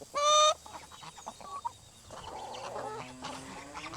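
Tame, incubator-hatched guinea fowl near a barn give a loud, harsh honking cry at the start, followed by scattered quieter clucks and chatter from the flock against steady outdoor background.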